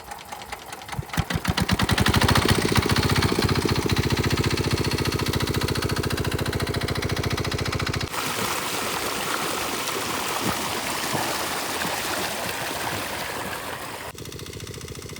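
A pond-draining water pump engine starts up and then runs steadily and loudly, its dense mechanical chugging continuous throughout, with an abrupt shift in tone partway and near the end, in a Sundarban village setting.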